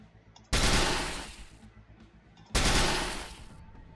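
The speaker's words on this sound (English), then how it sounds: "We can move and shoot, so let's do that." Gunfire in the video game Steamworld Heist comes as two loud bursts of rapid shots about two seconds apart, each ringing out and fading, with no talk over them.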